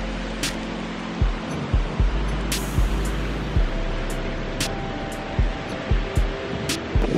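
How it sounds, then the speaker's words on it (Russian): Strong night wind gusting through Palm Springs, a steady loud roar with low rumbling buffets and several sharp bursts scattered through, no one speaking. "сумасшедший ветер. Смотрите."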